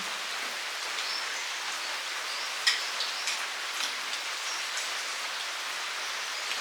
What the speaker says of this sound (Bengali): বৃষ্টি প্রচুর হচ্ছে, একদম পুরো ডুবিয়ে দিয়েছে।